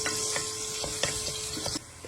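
Garlic fries in leftover onion-frying oil for a koshari sauce, a soft steady sizzle broken by a few light, regular stirring taps, quieter at the end.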